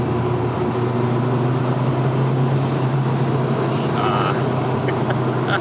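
A first car started after sitting for six years, its engine idling steadily with a constant low hum and rumble, loud and close, with brief higher noises near the end.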